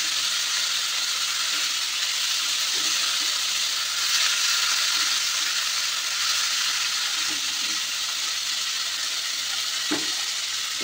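Spice masala with a small pinch of asafoetida sizzles steadily in hot oil for a vegetable dish, a continuous close frying hiss with faint stirring scrapes beneath and no talk.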